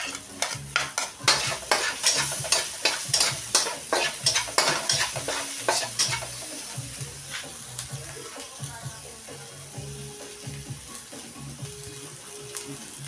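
Garlic and onion sautéing in a pan for pochero, with a run of quick rhythmic clacks from a utensil stirring, then a settled sizzle with occasional scrapes and a faint running-water sound.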